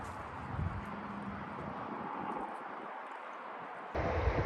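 A fixed-wing airplane passes overhead near an airport, heard as a broad, steady roar rumbling through wind noise, with the sound briefly dropping before it swells again at the end.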